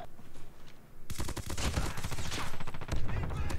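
Rapid burst fire from the Chicom gun in a shooter video game, rattling volleys erupting after a quiet second and continuing in loud, close, repeated bursts to the end.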